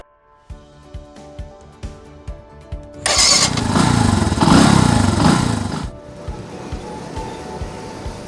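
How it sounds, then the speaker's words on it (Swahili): A Bajaj Boxer X125 motorcycle with a 10-horsepower engine putters at idle in even beats. It then revs loudly for about three seconds and drops back to its steady idle, close by and with no talk. "engine ya Boxer X125 ni laini na ina bidii"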